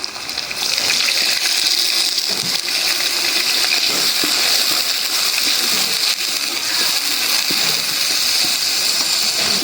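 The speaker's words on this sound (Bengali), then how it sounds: "একটু পানি দিয়ে দিই" Water pours into a cooking pan holding hilsa fish heads fried with onions and salt, making a steady close gushing rush that holds at an even level for nearly ten seconds with faint sizzling beneath.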